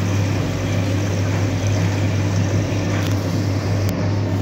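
An Electrolux Wascator W455H washing machine on a 40 cotton wash runs its first rinse, a steady low mechanical hum with water sloshing, constant and close, with a couple of faint clicks near the end.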